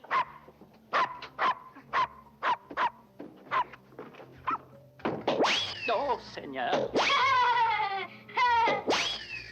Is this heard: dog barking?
yes